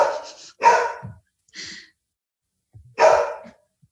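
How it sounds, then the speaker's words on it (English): Dogs bark indoors nearby in short separate bursts, a few sharp barks with quiet gaps between, some fainter and more distant. "I'm trying to wait till the dogs stop barking."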